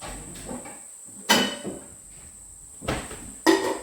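A few separate metallic clanks and knocks of cookware being picked up and set down, close by, with quiet pauses between them.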